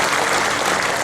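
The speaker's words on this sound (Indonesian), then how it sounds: "Tepuk tangan untuk Ibu dan terima kasih Ibu" Applause at the installation of party officials at an Indonesian political gathering, a brief, full burst of crowd clapping heard alone at a steady level.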